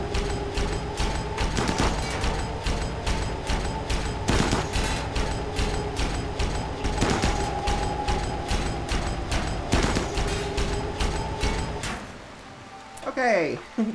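Gunfire from a heavy gun in RimWorld, a loud, steady run of rapid repeated shots with periodic heavier blasts, stopping near the end and followed by a short, faint mechanical chirp.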